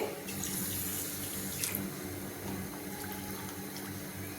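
Water runs steadily into a pot of sugar, a soft continuous splashing stream that stays faint and even throughout.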